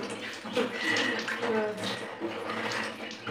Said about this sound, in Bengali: এখন হচ্ছে ঠাকুরের বাসন মাজছি, মানে মাজা হয়ে গেছে, ধুচ্ছি।